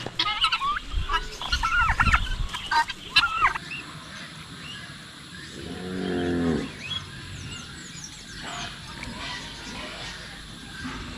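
Turkeys and guinea fowl gobbling and clucking as they call for food, a turkey's gobble rising mid-way among scattered fowl calls, with a person talking at the start.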